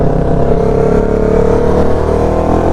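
A 1000cc sportbike's engine pulls hard and steady under acceleration, loud and close, a continuous rising drone with no voices over it.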